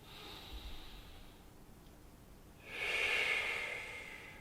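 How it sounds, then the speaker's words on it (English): A slow, deep breath in through the nose, close and soft, swelling to a breathy rush that fades, with a quiet hiss before it. "We're going to breathe really deep in."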